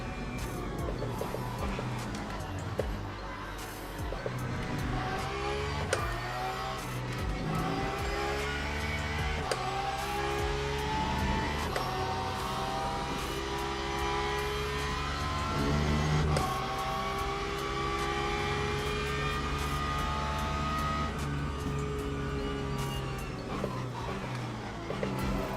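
Race car engine in the Le Mans Ultimate sim at Interlagos, revving hard and dropping through gears with rising and falling harmonic sweeps and sharp downshift blips, continuous and loud with no talk.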